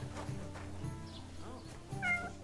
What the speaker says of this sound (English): There's a fucking cat.